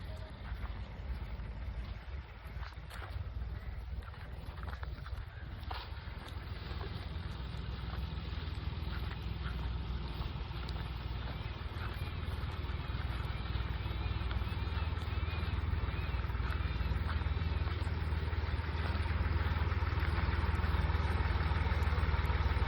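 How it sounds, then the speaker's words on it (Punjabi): A low tractor engine rumble runs steadily throughout on a sorghum farm, idling and growing slightly louder toward the end, with no clear talk. "ਉਹ ਟਰੈਕਟਰ ਵੀ ਆ ਗਿਆ"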